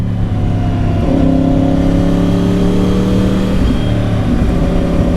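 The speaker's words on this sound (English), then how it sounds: "Enjoy the ride of the R1." A 2010 Yamaha R1 sport motorcycle engine drones loud and close while riding, holding a steady pitch with slight rises as it pulls, no voices over it.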